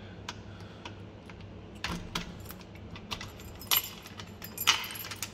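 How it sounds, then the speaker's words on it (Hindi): A bunch of keys jangles close by while a key is fitted into a lock. Soft scattered metallic clinks and rattles build to a few sharper jingles near the end, over a quiet background hum. "लगा रहा हूँ चाबी।"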